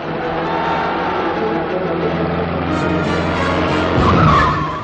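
Sports cars racing on the Moscow hippodrome winter track in 1963 at a season-opening event give a loud, continuous engine roar with tire skidding. The sound swells near the end as a car draws close.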